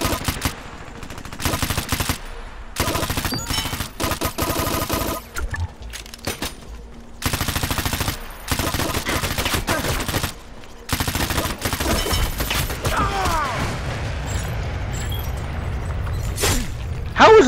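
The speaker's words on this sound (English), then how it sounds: "No matter how many times I shoot at her, she just doesn't take as much damage" Bursts of automatic gunfire from shooting in the online shooter Dirty Bomb, loud and close, in repeated volleys with brief pauses, partly overlapped by explosions and other game effects.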